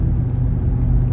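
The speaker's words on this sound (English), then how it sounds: "Seems to be shifting just fine, as I said. It's not pulling, not losing any power." Cabin of a 2005 Chevy Avalanche on the move, a steady low engine and road rumble, close and even throughout, with no distinct gear change standing out.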